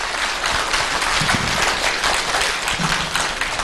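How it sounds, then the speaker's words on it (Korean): Welcoming applause for a former dental hospital director at a gum-health talk concert, a loud, dense, continuous clapping sound with steady intensity across the short stretch. "박수로 맞이해 주시기 바랍니다."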